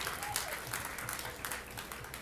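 A crowd applauding at a women's open final pool match in Las Vegas: dense, steady clapping that holds at an even level, heard from within the hall with a faint voice underneath.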